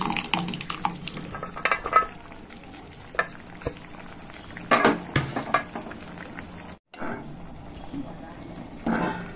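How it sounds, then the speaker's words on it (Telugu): Mashed toor dal being moved into a cooking pot, with soft wet scraping and stirring sounds alongside sizzling, close by, a short pause partway through. "ఇప్పుడు ఇక్కడ అది స్మాష్ చేసి పెట్టుకున్నాం కదా కంది బ్యాలు, ఇది అంతా ఇక్కడ ట్రాన్స్ఫర్ చేసేస్తున్నాము"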